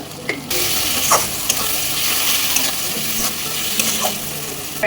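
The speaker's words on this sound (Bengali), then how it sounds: "ম্যারিনেট করে রাখা মাংসটাকে দিয়ে দিলাম" Marinated chicken pieces hitting a hot pan for Bengali chicken kosha, giving a steady broad sizzle with occasional stirring clinks and scrapes throughout.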